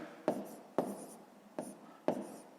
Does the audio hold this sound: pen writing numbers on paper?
yes